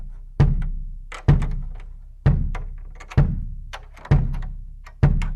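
A bass drum being tuned is struck six times at a slow, even pace, each hit a deep, close thump with a short resonant decay, alone with no talk.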